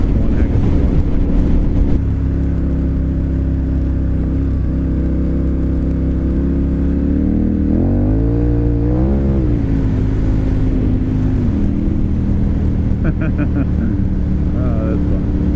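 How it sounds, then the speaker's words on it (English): A KTM 1090 Adventure R motorcycle engine drones steadily while riding, rising in a brief rev midway before settling back, with wind buffeting the microphone throughout. "KTM is just one heck of a motorcycle."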